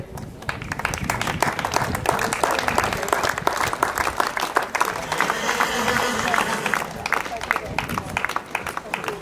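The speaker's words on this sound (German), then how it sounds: "Applaus." Audience applause at a Holstein foal branding event, a full crowd clapping loudly and steadily throughout with dense overlapping claps.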